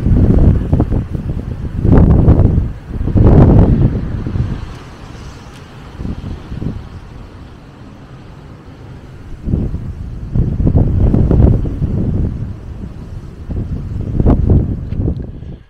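Storm wind gusting through a garden in February, roaring and buffeting loudly in low rumbling blasts that rise and fall, with a quieter lull in the middle.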